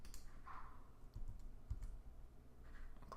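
Computer keys click and tap in a quiet room, a few soft irregular keystrokes and mouse clicks spread across a few seconds, close and faint.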